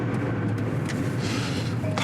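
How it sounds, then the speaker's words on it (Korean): Cars drive past on a road in Gijang, Busan, as a steady loud rumble of tires and engines close by, with no talking. "차들 많이 가네."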